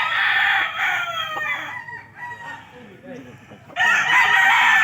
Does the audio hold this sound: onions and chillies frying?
no